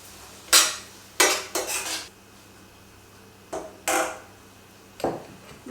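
Whole cardamom, cloves and cumin seeds stirred in a metal pan, a few sharp scraping and clinking strokes of the spoon in short bursts with quiet gaps between.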